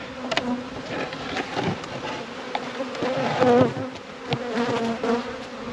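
Honey bees swarm around a hive, a dense, steady buzzing close by with individual bees droning past in and out, no voices over it.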